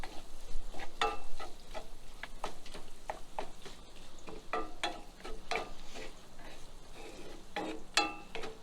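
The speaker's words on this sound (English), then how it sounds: "I'm gonna mix in some flour, start thickening it up." Flour being stirred into sausage gravy in a pan at a campsite: a series of short scraping strokes repeat unevenly over a soft sizzle, fairly close, with no talking.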